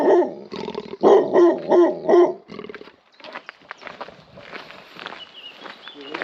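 A dog barks repeatedly in a rhythmic burst of several loud, close woofs during a countryside walk along a Cotswolds trail in England, then falls quiet while faint footsteps and ambient outdoor sounds continue.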